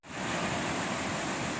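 Ocean waves surge steadily through a coastal blowhole near the Glass Window Bridge on Eleuthera, a loud, continuous rushing roar of churning water with no pauses.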